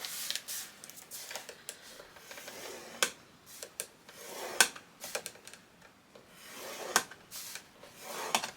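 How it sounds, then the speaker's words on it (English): A tool scores a line on paper for a Christmas photo folio kit, making short, close scraping strokes in irregular bursts, dry and crisp with quiet gaps between passes. "And then you're going to score at 7/8."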